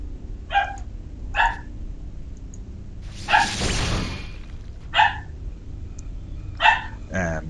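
A dog barks in short separate bursts, five or six sharp barks spaced over several seconds, fairly close, with a brief whooshing noise in the middle and low background hum from a strategy game.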